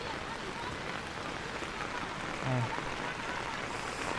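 Heavy rain pours steadily at the Silver Waterfall in Sapa during the stormy season, a dense even hiss with a brief low thump partway through.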